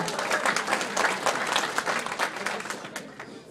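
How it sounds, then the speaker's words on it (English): Wedding guests at a reception applaud the matron of honor as she comes up to speak, a full, lively burst of clapping from a crowd that holds strong before tapering slightly at the end. "please give her a nice round of applause and your attention as well"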